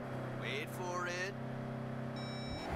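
A short electronic voicemail beep from the video game Saints Row, sounding as a thin tone late in the clip over a steady engine-like drone with a few brief tonal chirps earlier.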